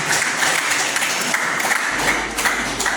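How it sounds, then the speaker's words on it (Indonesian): Applause from the audience at a school student council debate, steady dense clapping throughout and fairly loud with no talk over it. "kita beri aplaus untuk nomor 3"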